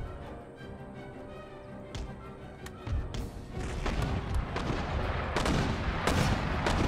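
Mortar artillery firing shrapnel in the game Empire Total War, a series of sharp booms and cracks that grow denser and louder after the first few seconds, layered over a continuous rumbling battle din.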